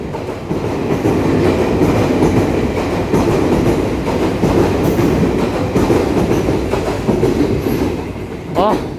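A Puyuma Express TEMU2000-series tilting train, set TEMU2006+TEMU2005, passes at speed on the North-link line with a loud, steady rumble and rhythmic wheel clatter, ending in a brief high squeal.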